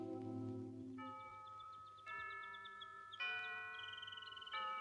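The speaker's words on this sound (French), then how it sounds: "J'aime beaucoup entendre les cloches" Bright, ringing church bell tones strike in a sequence of stepped pitches, each chime sustaining clearly over a quiet low background.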